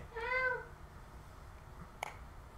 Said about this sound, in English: I think you may have a couple cats roaming around in there somewhere